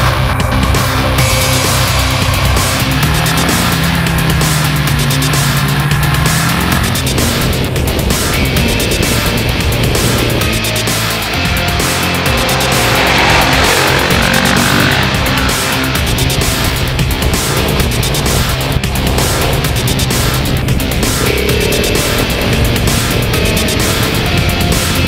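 A KTM SMC 690 single-cylinder motorcycle laps a go-karting track, its engine loud and close throughout, rising and falling with gear changes and throttle blips, with steady wind rush and no talking.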